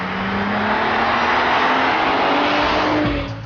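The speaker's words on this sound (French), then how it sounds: "Son V6 est très linéaire, coupleux jusqu'au bout et plein à tous les régimes." A 2002 Volkswagen Golf IV R32 with a V6 engine pulls hard under acceleration, a smooth, steady, loud engine note that holds for a few seconds with no talking.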